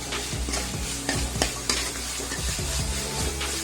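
Ginger and garlic fry in hot oil for chicken curry, a soft steady sizzle broken by scraping stirs of a spoon against the pan, fairly quiet and close.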